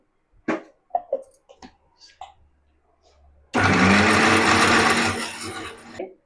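A mixer grinder blending masala with a little water starts up loudly after a few clicks and taps, whirring steadily for a couple of seconds before slowing at the end.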